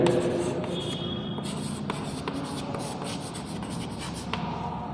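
Chalk or marker writing on a board during a class 9 maths lesson, a steady scratchy rubbing with short strokes and taps, close and continuous for several seconds.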